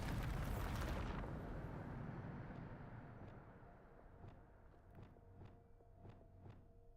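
Bombarda blasting spell in Hogwarts Legacy, a loud broad explosion at the start that rumbles and slowly fades, followed by a few faint regular steps near the end.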